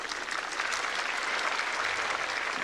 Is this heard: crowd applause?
yes